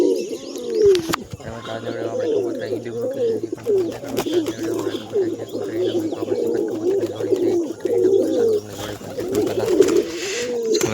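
Several pigeons coo continuously nearby, overlapping low warbling calls in a rolling rhythm, over a faint steady hum in the background.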